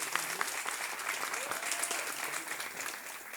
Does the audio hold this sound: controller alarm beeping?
no